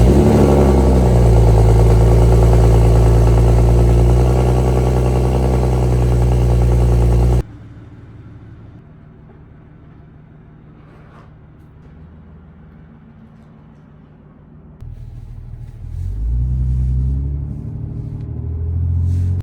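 A BMW B58 engine fitted with a big turbo upgrade, heard while driving: a loud, steady droning roar for several seconds, then an abrupt drop to a low cabin hum, before the engine note swells and builds again toward the end, with no talking.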